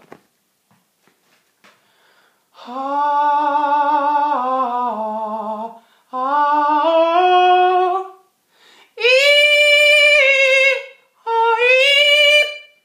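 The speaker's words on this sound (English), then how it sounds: "I'm going to go for a falsetto." Four sustained sung notes in a light, airy falsetto, each held a second or two with gaps between, the last two pitched noticeably higher.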